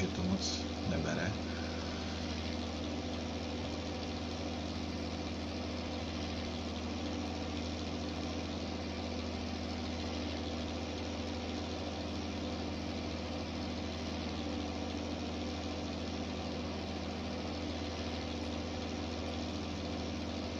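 Tractor engine idling in Farming Simulator 19, a steady low mechanical hum that holds evenly throughout, with a brief bump near the start and talk likely over it.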